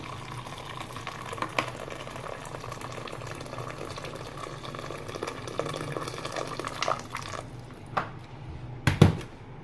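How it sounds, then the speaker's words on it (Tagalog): One liter of hot water fills a cooking pot holding beef tongue, a steady close liquid rush and bubbling that runs throughout, ending with a few knocks and clinks of the pot. "Lagyan natin ng tubig na 1 liter. Hot water na to."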